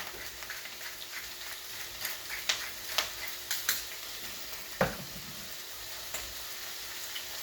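Root vegetables browning in a hot pan over high heat, a steady close sizzle and crackle throughout with occasional small pops and ticks, no talking.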